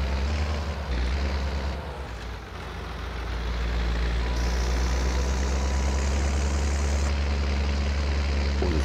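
Tractor engine idling and running steadily in Farming Simulator 22, a continuous low rumble that dips briefly then holds loud and even throughout, with no talking.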